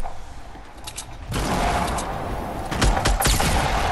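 Gunfire in the Fortnite video game crackles as a rapid string of loud shots, with sharp cracks bunching toward the end over steady background noise.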